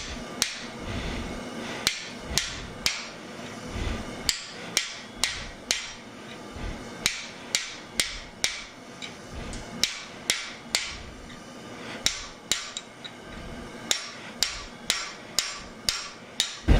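Sharp, ringing hammer blows on a V-fuller while forging tong blanks into V-bit tongs, struck in steady clusters of rapid metallic hits with brief pauses between, loud and close with no talk.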